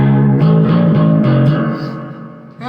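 Schecter C-8 Deluxe eight-string guitar through a clean amp with huge reverb, sustained chords ringing out alone with a long, washing tail that fades toward the end before a new note enters.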